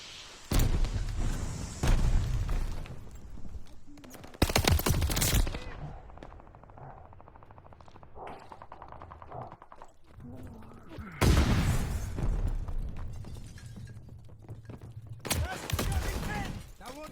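Gunfire and a grenade blast break out in a firefight, with loud sharp bursts, a booming impact near the middle and shouted voices between the shots.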